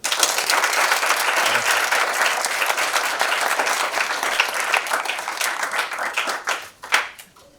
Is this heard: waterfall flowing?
no